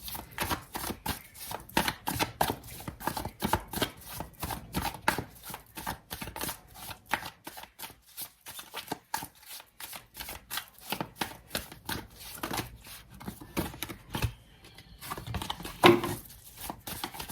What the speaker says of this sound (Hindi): मैं कार्ड खुद ही पुल करूंगी